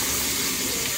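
Water gushing steadily from a tap into a sink, a loud, close, continuous splashing rush.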